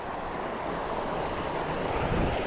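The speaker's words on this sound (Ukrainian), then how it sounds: "це цей водоспад" A waterfall beside a fishing spot, its steady broadband rush of falling water filling the whole stretch evenly and loudly, with no voices over it.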